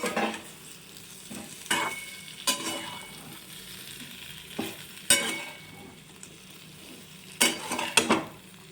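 Boiled potatoes are gently stirred into oily frying masala for katka roti, with soft sizzling under intermittent spoon scrapes and knocks against the pan spaced a second or two apart, close and without speech.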